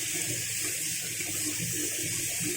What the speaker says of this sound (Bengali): এখানে এবার আমি সামান্য একটু জল দিয়ে দেবো